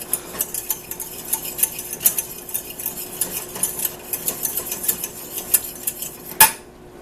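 Gelatin being stirred into a tablespoon of cold water in a pot, soft, rapid scraping and clinking of a utensil against the pot, repeating steadily at close range, ending with one sharper knock.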